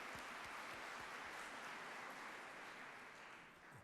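A town meeting audience in Eastham applauds, a dense, steady wash of clapping from a large crowd in a hall that holds for several seconds, then tapers slightly.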